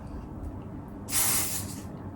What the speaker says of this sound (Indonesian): Lem itu adalah si hairspray ini yang akan ngeset rambut kita sampai malam bertahan.